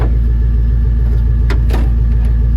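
An old car engine idles with a loud, low, steady rumble throughout, with a couple of faint clinks on top.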